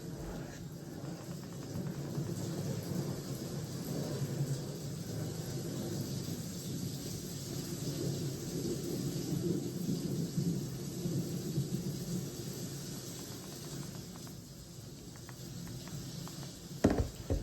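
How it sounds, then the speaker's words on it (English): Thunder rolls as a long, low, continuous rumble at moderate distance, swelling and easing slowly over the whole span with a faint hiss, no voices over it. "This is the sound thunder that we hear."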